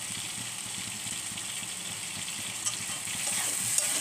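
Small late-winter potatoes frying in a pan for aloo tomato pulao, giving a continuous close sizzle that swells slightly louder near the end, with no talking.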